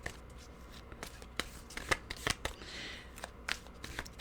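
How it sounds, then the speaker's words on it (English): Tarot cards shuffled by hand, a run of crisp riffling flutters and soft taps repeating at close range, with no voices over them. "Okay, let's turn to the cards."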